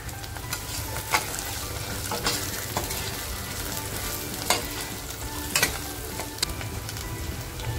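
Red chillies and dried onion fry in a pan for village-style mutton masala, a dense, close sizzle running throughout with repeated scraping stirs and occasional sharp clinks of a spoon.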